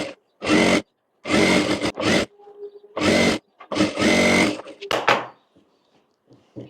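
A sewing machine runs in several short bursts of steady whirring while stitching a baby girl's Alia cut kurti, with brief quiet pauses between runs.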